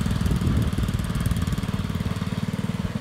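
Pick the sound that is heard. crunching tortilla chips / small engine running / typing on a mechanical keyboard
small engine running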